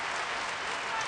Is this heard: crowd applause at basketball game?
yes